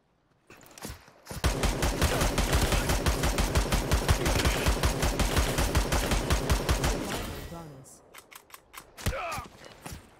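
Gunshots in the video game Super People, a long sustained string of rapid close shots firing in steady rhythm, then a pause and a few scattered clicks and shots near the end.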